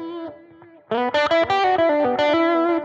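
Electric guitar with a Foppstar Gentleman Deluxe pedal switched off, a quiet sustained note first, then louder strummed chords in a quick choppy rhythm, played alone.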